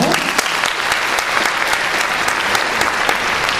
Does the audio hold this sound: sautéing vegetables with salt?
no